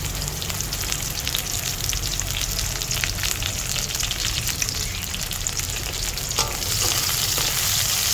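White onion frying in a pan with garlic, a loud dense continuous sizzle and crackle lasting throughout with a few faint clinks, with no talk.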